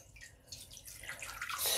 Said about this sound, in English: We're just going to pour the water in.